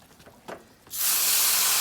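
A handheld spray bottle misting water over small garden seedlings: a couple of soft taps and clicks, then a loud, sustained breathy hiss of spray close by.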